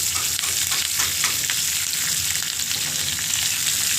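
Onion and curry leaves with whole spices (bay leaves, cinnamon, cloves, fennel, cumin) frying in a pan, a loud, dense, continuous sizzle with soft stirring scrapes, close up and alone.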